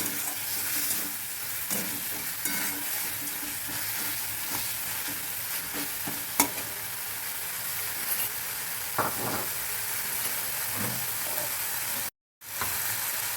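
Washed raisins and cashews fry in a pan with a steady, moderate sizzle, broken by intermittent scraping stirs and a brief dropout near the end.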